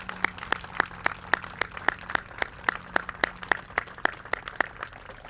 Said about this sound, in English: I want to give Doug just a round of applause